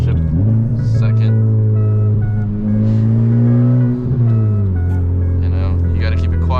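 A Honda FK8 Civic Type R with a Tomei Type D catless exhaust drones loudly, its engine note rising and dipping through revs on a downshift, with someone talking over it.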